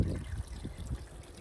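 Water trickles and dribbles out of the drain valve of a Suburban RV water heater, a soft low gurgling flow that wavers slightly over a brief moment, with no voices.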